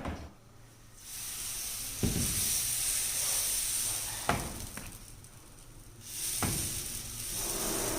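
A dosa sizzles on a hot griddle with ghee, a steady bright hiss that rises and falls in waves. Sharp scraping and clatter from a spatula break through the hiss several times.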